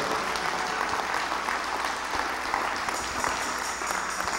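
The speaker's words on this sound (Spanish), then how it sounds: "Puede darle un aplauso al Señor, si se lo va a dar, déselo" Congregation in a church applauding God during a Spanish-language sermon, a dense, steady wash of many hands clapping at once, close and loud, with faint voices mixed in.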